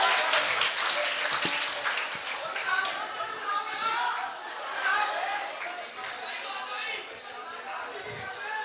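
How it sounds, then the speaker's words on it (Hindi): Clapping and cheering from a college audience at a Hindi kavi sammelan poetry recital in Ghaziabad, a dense steady applause with crowd chatter and voices mixed in throughout. "ताली बजाओ मिलके सारे जोर जोर से"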